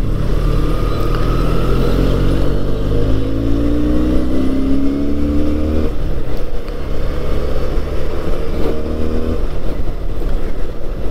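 A Benelli 302R 300 cc sports motorcycle engine drones steadily while riding, loud and close, with its pitch rising through gears, a shift, then another climb under constant wind rush.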